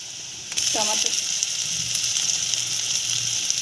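Tomato tipped into a pan of lightly fried onions, breaking into a sudden loud steady sizzle after a brief quiet start, with a short clatter as it goes in.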